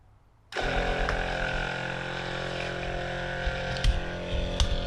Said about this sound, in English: Let's power the pump. Let's see what happens.